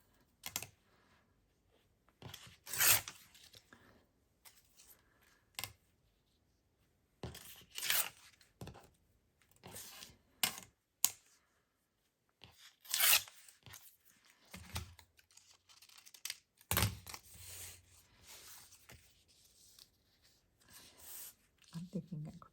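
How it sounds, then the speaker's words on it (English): Paper is torn from a book page in several short ripping bursts at close range, separated by quiet gaps, with soft speech and handling rustles in between. "Oh, I might tear that down."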